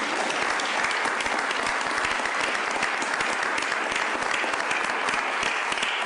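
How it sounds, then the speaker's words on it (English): Attendees at a Chicago public school board meeting applaud visiting school families and staff, a steady, even wash of many hands clapping that holds without pause for several seconds. "so we can applaud you"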